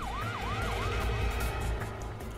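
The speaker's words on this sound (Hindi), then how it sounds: "ये सायरन की आवाज सुन रहे हो तुम दोनों?" Police siren wailing in a rising and falling pattern, fairly distant and moderate in volume over traffic rumble and road noise.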